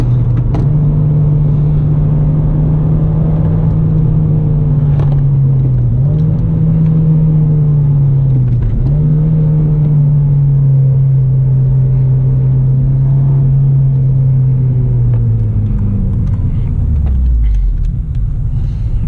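A car engine during rev-matching downshifts: a loud, steady mid-pitched drone close by, with two brief blips around the gear changes, then the engine note sinking low as the car slows.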